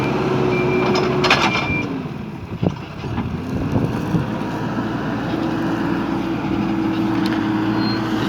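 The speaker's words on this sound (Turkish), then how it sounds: "Alttaki traktör de diğer sınırı düzeltiyor." A tractor levels a field boundary, its engine a steady droning rumble heard from some distance across open farmland, with wind buffeting the microphone and a faint voice early on.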